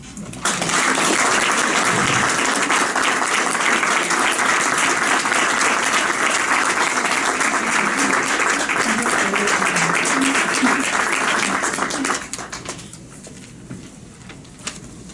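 An audience at an evening internship program reception applauds, a loud steady clatter of many hands that holds for about twelve seconds before quickly thinning to a few scattered claps.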